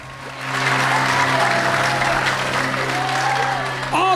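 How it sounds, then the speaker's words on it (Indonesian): On a karaoke competition show, the studio audience and judges break into loud, sustained applause for a singer, rising after a brief quiet start and holding steady over a low musical drone, with a voice briefly at the end. "mana tepuk tangan untuk Semi Batubara?"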